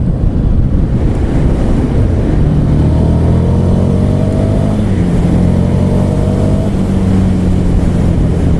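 A 2016 Ducati Scrambler's engine runs steadily, its rising and falling harmonic tones revving up under heavy wind buffeting on the microphone, loud and continuous throughout.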